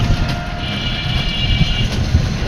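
Metro train passing on its elevated line near the TSC crossing in Dhaka: a loud, steady rumble with a thin high whine riding over it, heard close and continuously.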